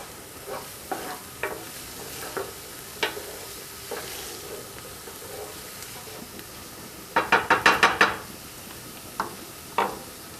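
Garlic sizzles in a pan for a lemon caper sauce, a low steady frying hiss punctuated by scattered utensil taps and a quick burst of rapid stirring scrapes, close and alone.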